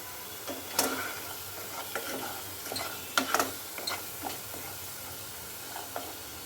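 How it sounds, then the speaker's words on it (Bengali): Onions fry in a pan with salt and turmeric mixed in, making a soft steady sizzle broken by scattered scraping stirs of a spoon against the pan, close and without talk. "পেঁয়াজের সাথে লবণ ও হলুদটাকেও মিশিয়ে নিচ্ছি।"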